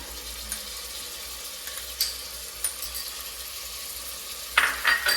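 Ginger, garlic and green chillies sautéing in a pan for Kerala-style chicken curry, a steady soft sizzle broken by a few light stirring clinks and scrapes, with louder stirring toward the end.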